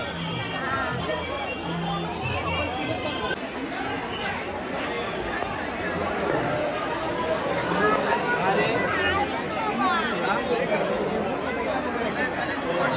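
A dense crowd jams the Kolhapur Mahalaxmi temple, and its steady, close hubbub of overlapping voices carries on without pause, with scattered louder calls and footsteps rising and falling.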